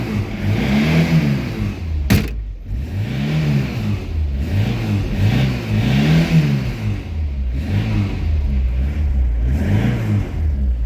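Tofaş Doğan car engine, suspected of a carburettor-related noise, revs up and down repeatedly in a regular rising and falling cycle, close and loud, with a sharp click partway through.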